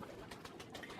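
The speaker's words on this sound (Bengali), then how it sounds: "এগুলো হলো দেশি কবুতরের বাচ্চা" Newly hatched local pigeon chicks make soft, faint cooing and murmuring sounds, a quiet low burble heard close by with no talking.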